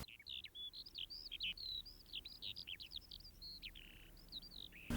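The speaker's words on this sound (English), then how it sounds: "The song starts off with birds chirping" Birds chirping in quick, bright trills and tweets, a lively series of calls close by with brief pauses between phrases.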